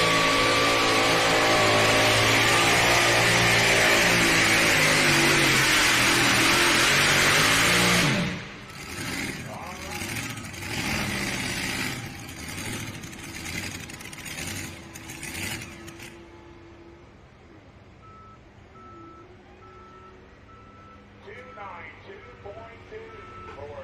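A two-wheel drive pulling truck at an NTPA truck and tractor pull in Sandwich, Illinois roars at full power for several seconds, then drops to a rough, fluctuating engine note as an announcer talks over it.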